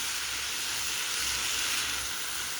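Frozen tomato frying in a hot pan for borscht, a steady, loud sizzling hiss with no pauses, close by and without talk.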